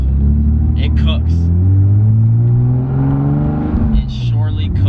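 A 900whp Toyota Supra MK4 engine revving in a deep, loud, sustained rumble that rises and falls in pitch, with brief voices over it.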